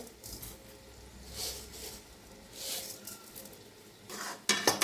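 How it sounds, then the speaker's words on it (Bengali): Bhuna khichuri, dal and rice with salt and sugar, stirred in a pot on a gas flame: soft scraping sweeps of a spoon repeating every second or so over a faint sizzle, ending in a few louder clinks. "এবার নাড়িয়ে নেবো ভালো করে"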